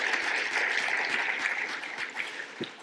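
Audience applause at a charity gala honoring award recipients, a steady dense wash of clapping from a large room that holds throughout and tapers slightly near the end.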